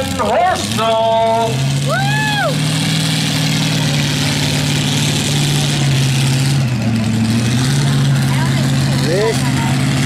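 A pulling tractor named Daddy's Wheels, from Aylesford, Nova Scotia, runs at a tractor pull, its engine a loud steady drone with shifts in pitch, under a commentator's talk and crowd noise.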